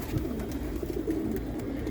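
A pigeon coos softly and repeatedly over a low background rumble, close by in a loft of a pigeon-keeping hobbyist in Jafrabad, New Delhi.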